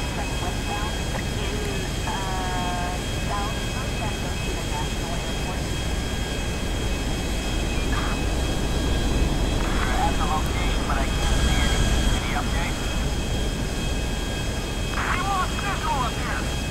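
A steady, loud aircraft engine roar drones throughout as a plane takes off in Grand Theft Auto 5, with someone talking over the continuous rumble.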